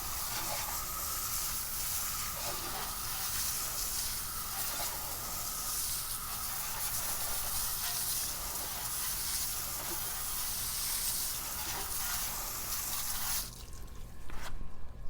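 Water sprayed onto a car wheel to rinse off brake dust cleaner makes a faint, continuous hiss that ends abruptly near the close.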